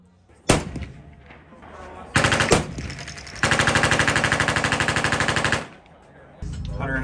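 A .50 caliber machine gun fired from a tank turret: a single loud shot, then a short burst, then a long sustained string of rapid, evenly spaced booming rounds, close and heavy, with echo between bursts.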